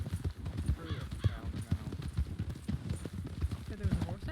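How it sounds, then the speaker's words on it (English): Horse hooves clip-clop steadily in a Red Dead roleplay game world, a saddled, tired-looking horse trotting close by with a brief whinny, while people talk over it throughout. "There was a horse out here? Yeah, there was. Saddled horse, looked real tired."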